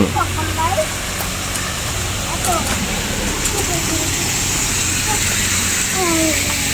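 Waterfall in a cafe garden gives a constant hissing rush of falling water, heard close beneath light chatter and a voice.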